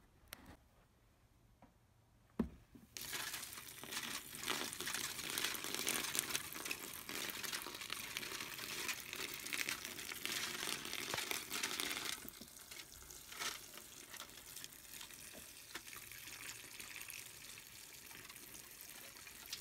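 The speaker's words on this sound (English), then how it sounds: "I'm about to pour that on the top." Wort from the vorlauf is poured onto the grain bed during homebrewing, a steady close splashing gush that starts abruptly after a quiet moment and runs for several seconds before easing into a softer trickle.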